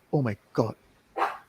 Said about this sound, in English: apologies for my dogs.